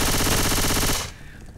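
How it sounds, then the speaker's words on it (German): Rapid automatic gunfire from the video game DeathCraft II, a loud, dense burst of shots lasting about a second and then cutting off into a quieter tail. "Schieß mal da rein."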